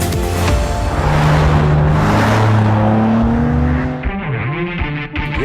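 A BMW M3 G80 lapping the Nordschleife, its engine roaring loud and sustained through rising and falling revs, with a sharp drop and rebound near the end as it shifts through a corner.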